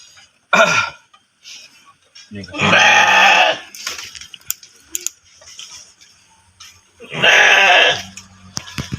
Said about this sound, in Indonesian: Mau lihat kambing gua nih. Bagus banget kambing gua sehat-sehat nih ya.